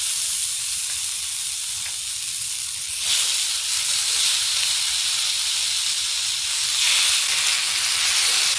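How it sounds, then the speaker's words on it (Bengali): Chicken gizzards hit a hot frying pan for a stovetop barbecue, giving a continuous loud, close hiss and sizzle that surges twice as the pieces settle. No one talks. "ফ্রাই প্যানটা হিট হয়ে গেলে প্রথমে মুরগির গিলাগুলো ছাড়বেন"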